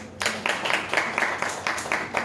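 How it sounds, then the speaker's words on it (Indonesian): A class of students claps for a classmate during a microteaching lesson, a fairly quiet run of evenly spaced claps in a steady rhythm, alone with no talk. "Boleh tepuk tangannya"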